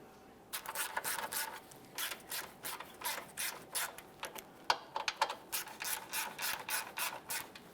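A hand ratchet snugs up the front sway bar bushing mounting bolts on a 1999–2006 Chevrolet Silverado 1500. Quick bursts of close, crisp clicking repeat in an uneven rhythm, one stroke after another, with no talking.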